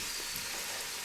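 Onions frying in hot oil for a tadka over split moong daal give a steady, bright sizzle, close and even, with no talk over it.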